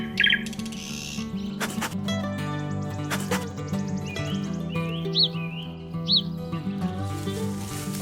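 A small brown-gray honeyguide bird calls near a honey badger in the wild, giving a series of short chirps and rising tweets over a steady background bed.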